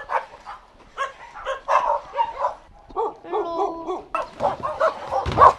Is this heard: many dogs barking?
yes